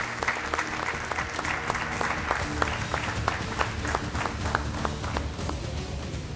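Studio audience applause rings out on a television entertainment show, steady, dense clapping that continues throughout at moderate level, with no talk over it.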